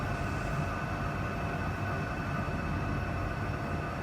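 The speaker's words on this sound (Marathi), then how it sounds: "ही ट्रेन पण आलेली आहे आपण बोलता बोलता ही ट्रेन इथे येऊन पोचलेली आहे" Automated driverless sky train at Singapore airport arriving, a steady continuous rumble of rail wheels and motor hum close by, with no talking.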